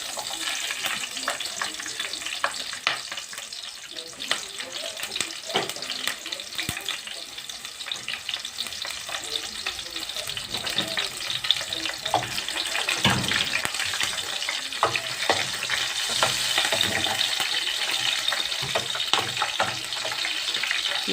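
Peppers fry in hot oil for Alexandrian liver, giving a dense, continuous crackling sizzle close by that holds steady for the whole stretch, with occasional faint stirring.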